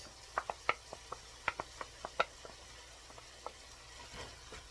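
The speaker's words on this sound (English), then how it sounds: "To that, we add 1 large onion chopped. Let that cook a little bit." A large chopped onion cooks in a pot with browned meat for shepherd's pie soup, giving off faint, scattered crackles and small pops that thin out over a few seconds, with no talking.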